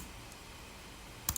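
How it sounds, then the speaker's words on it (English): A computer mouse clicking while working in SolidWorks, a quiet hum throughout and then one or two sharp, close clicks at the very end. "let's click on it"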